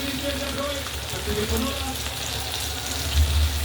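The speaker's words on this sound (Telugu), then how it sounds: "బాగా వేగాలండి కొంచెం ఎందుకంటే ఆల్రెడీ మనం బెండకాయ వేయించుకున్నాం కాబట్టి వేగిపోతాయండి" Okra frying in a pan with salt, chilli and coriander powder, a loud, dense, steady sizzle like rain on a surface, with a voice speaking over it.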